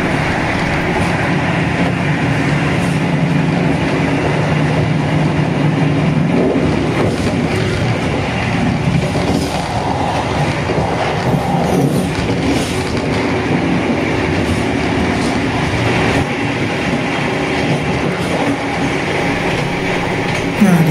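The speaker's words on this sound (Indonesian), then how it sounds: "Nah, ini dia kereta api Kaligung." The Kaligung passenger train rumbles past at close range in Indonesia, wheels clattering over rails in a continuous loud roar that holds steady throughout.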